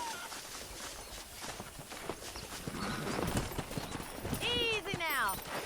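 Wild horses in the Red Dead Redemption video game, hooves clip-clopping steadily over open ground with a drawn-out whinny rising near the end, under a low wash of outdoor ambience.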